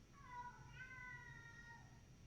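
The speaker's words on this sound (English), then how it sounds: "That's my cat Baloo, by the way." A house cat lets out a long, drawn-out angry meow, a single sustained wavering cry heard faintly indoors over a low background hum.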